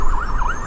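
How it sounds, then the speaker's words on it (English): An ambulance siren wails nearby, its pitch rising and falling in a steady repeating sweep, loud and continuous over a low traffic rumble. "that was an ambulance."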